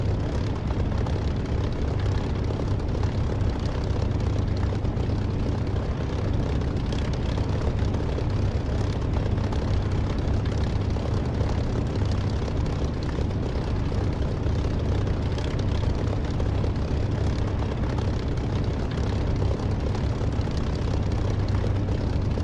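An aircraft engine warms up in the DCS flight simulator game, a steady, unbroken propeller-engine drone with a heavy low hum that stays at an even, loud level throughout with no talking.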